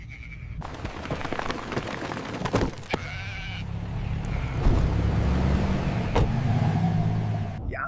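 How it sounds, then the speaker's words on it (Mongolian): Sheep bleat several times at close range, with a car's engine and road hum running underneath, on a drive in Mongolia toward Bulgan. "Ямар их майлдаг хонь вэ?"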